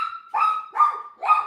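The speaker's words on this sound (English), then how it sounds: "Forgive my dog, folks." A dog barks three times at close range in quick succession, sharp and fairly loud, with near-silence between the barks and no talking.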